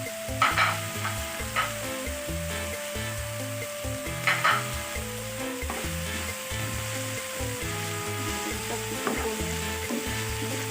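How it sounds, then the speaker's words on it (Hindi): Chicken and vegetable tortilla filling seasoned with salt and black pepper fries steadily in a pan, a continuous close sizzle broken by occasional scraping stirs, with a constant low tonal hum underneath. "बिल्कुल हल्का सा ही फ्राई करना है, तकरीबन 1 मिनट तक इसको हम लोग फ्राई करेंगे"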